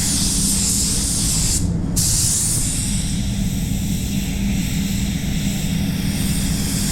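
A DV1 basecoat spray gun sprays PPG Envirobase paint with a loud, continuous airy hiss, briefly cutting off for a moment before resuming steadily.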